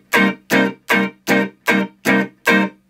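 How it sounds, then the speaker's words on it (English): Seven evenly spaced palm-muted eighth-note chugs on an electric guitar, each a short, punchy, percussive hit with quick decay, played cleanly and close with nothing else audible. "So you have to practice a little bit, like eighth notes, muting."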